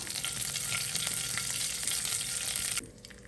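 Curry leaves drop into hot oil with chana and urad dal and crackle in a loud, dense sizzle, close up and without talk, cutting off abruptly near the end.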